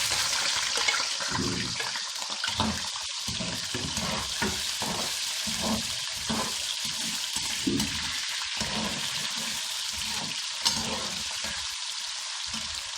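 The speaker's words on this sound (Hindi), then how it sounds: "अब इसके अंदर ये आलू डालकर फ्राई कर लेते हैं।" Potatoes fry in hot oil in a pan, a loud, continuous close sizzle with repeated bursts of stirring and scraping throughout, no voices.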